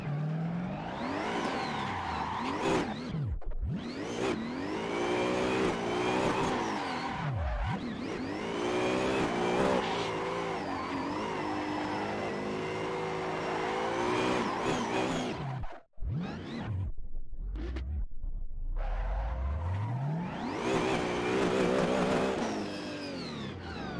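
Drift car in Assetto Corsa on a Texas Formula Drift track with harder rear tire pressure, its engine revving and wailing almost nonstop, with sharp gear-change dips, tire squeal and short breaks of quieter running.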